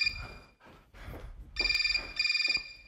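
A telephone rings in an indoor sitcom scene, two bursts of bright electronic trilling in quick succession after a stretch of low scuffling and muffled voice sounds, fairly close and clear.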